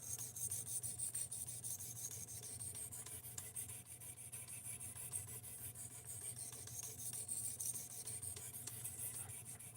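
A knife blade rubs back and forth across a 1200 grit whetstone in a quiet, steady rasping rhythm of repeated strokes, faint and close, with no talk.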